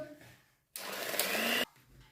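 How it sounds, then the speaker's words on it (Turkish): An electric mixer whisks eggs and sugar for mini apple, hazelnut and cinnamon cakes, a steady loud whirr lasting under a second before cutting off, with quiet talk before and after. "4 tane yumurtamızı da şöyle köpük köpük olana kadar mikserle çırpalım"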